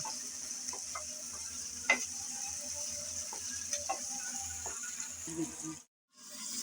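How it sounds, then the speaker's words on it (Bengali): Prawns stirred and fried together in a pan, a steady sizzle with scattered scraping clicks from the spatula; a short quiet gap comes near the end. "হালকা করে নেড়ে চেড়ে চিংড়ি মাছ দু তিন মিনিট করে বেজে নিয়েছি"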